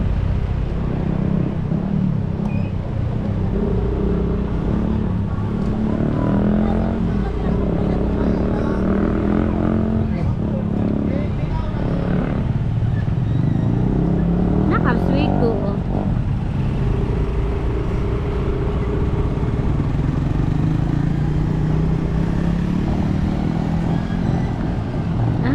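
A motorcycle engine drones steadily while riding near the market in Bayugan, with rising and falling revs and road noise throughout, and voices talking over it.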